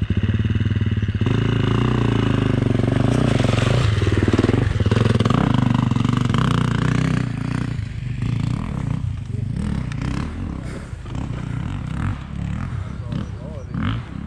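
A motorcycle engine roars loudly and close, revving hard at first and then settling into a rougher idle and pull-away, with a voice heard over it near the end.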